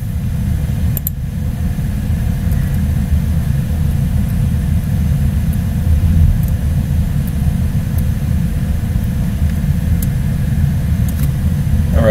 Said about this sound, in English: Yep, I'm gonna drive me a Kia.